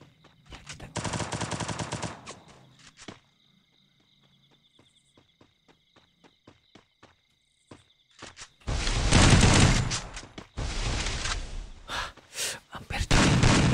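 Gunfire in the Free Fire mobile battle royale game: a sustained automatic burst, then a sparse series of single shots, followed by long loud volleys of rapid fire, all close and dominant.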